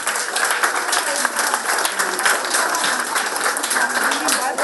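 Applause from a crowd at a neighborhood center anniversary celebration, steady dense clapping that stays loud and even throughout, with a voice heard faintly underneath.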